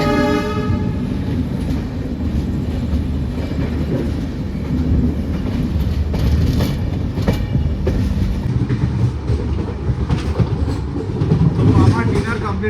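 A Garib Rath Express on the Shalimar to Puri run pulls away from Santragachi station at night, heard from on board as a loud steady rumble and clatter, with a horn blast near the start and voices underneath.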